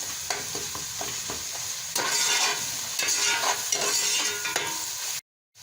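Ginger and garlic fry in a pan with a steady, fairly loud sizzle, punctuated by repeated scrapes and clicks of a spoon stirring; the sizzle swells after about two seconds and cuts off abruptly near the end.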